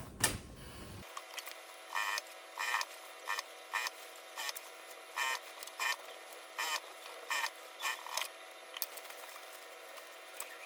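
Sewing machine running a seam all the way around a drawstring backpack's fabric, with short repeated bursts of mechanical stitching separated by brief pauses, steady and close with no talk.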